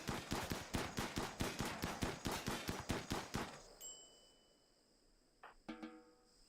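RimWorld colonists fire a rapid, evenly spaced string of about fifteen loud gunshots that cut off abruptly, followed by a quiet lull, a faint electronic tone and a few more scattered shots near the end.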